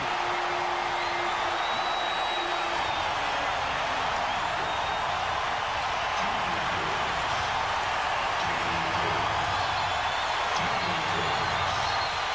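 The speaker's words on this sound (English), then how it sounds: "The crowd is so loud." Dense, sustained roar of a packed basketball arena crowd during a tense late-game playoff moment, a steady wall of noise with occasional whoops, heard alone with no talk.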